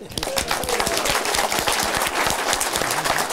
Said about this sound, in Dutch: applaus voor Peter